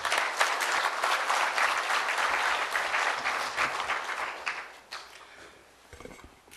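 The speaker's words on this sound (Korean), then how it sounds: "김성기 사장님을 큰 박수로 모시겠습니다" Dense, steady applause from a large conference audience welcomes the Kookmin Ilbo president at the 2013 opening ceremony on job creation and regional economies, holding strong for several seconds before thinning out near the end.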